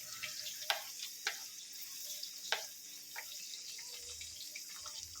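Crushed shallots frying in hot coconut oil, a soft continuous sizzle with a few sharp crackles and pops scattered through, faint and without talk.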